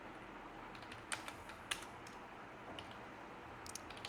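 Keys on a computer keyboard are tapped quietly at a fast, uneven pace while typing a sudo command, with a few sharper clicks standing out over low background hiss.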